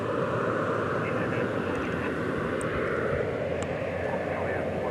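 A Qatar Airways jet taxis at night at DFW Airport, producing a steady broad jet-engine roar with a faint high whine, constant and moderately loud throughout.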